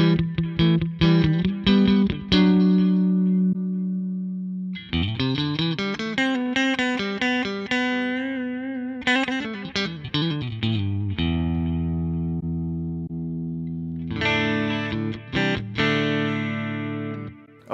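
An electric guitar plays Fender-style clean tones through a Line 6 POD Go: strummed chords and ringing sustained notes, with short choppy stabs and longer held phrases, close and steady, with no talking.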